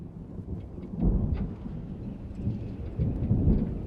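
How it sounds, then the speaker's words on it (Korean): Thunder from an approaching storm at sea rolls through steady rain in a survival thriller, with two heavy, deep rumbles swelling about two seconds apart and no voices. "멀리서 거센 폭풍우가 다가오는 걸 본 그는 급히 내려가기 시작합니다."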